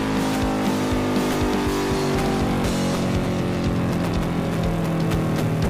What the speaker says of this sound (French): Le café racer n'est pas testé à pleine puissance